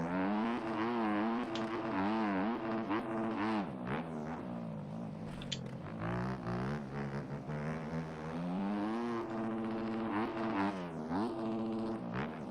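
Yamaha YZ250F four-stroke dirt bike in MX Bikes on a sand track with a sand tire: an engine revving hard and continuously, its pitch rising and falling through gear changes, loud and near throughout.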